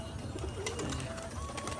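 Pigeons released from a loft give soft low cooing amid light rustling and scattered faint chirps, heard quietly and close with no talk.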